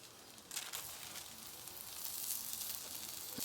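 Juicy Lucy burger patties frying in butter and oil in a pan, a steady close sizzle with brief crackling pops and a louder spatter near the start and end.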